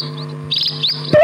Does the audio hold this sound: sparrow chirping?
yes